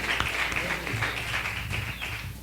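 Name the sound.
audience applause welcoming comedians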